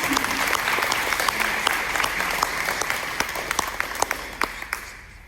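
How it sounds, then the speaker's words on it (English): Audience applause at a women's scholarship luncheon, many hands clapping in a sustained even patter with individual sharp claps standing out, slowly tapering toward the end. "we need to give another round of applause for Kyrie"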